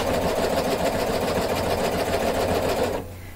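Cover hem sewing machine stitching a leopard-print top, running as a loud, steady, rapid mechanical whir up close, then stopping abruptly just before the end.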